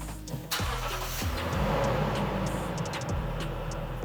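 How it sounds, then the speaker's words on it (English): A Lexus GX 460 fires up with a quick cranking catch and a roaring surge that settles into a steady idle, close and alone. "a little hidden selling feature that's really advertised on the GX is the startup sound"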